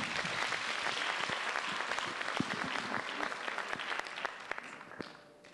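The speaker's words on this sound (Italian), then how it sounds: "Un applauso, forza!" Audience applause at a children's festival, a full crowd clapping loudly and continuously before thinning into scattered claps and fading out in the last second.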